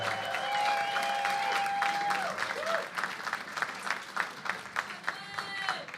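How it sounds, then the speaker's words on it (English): A community event audience applauds for UnidosNow, the clapping swelling in uneven bursts beneath a sustained tone and scattered voices, moderately distant. "Let's get a round of applause for UnidosNow."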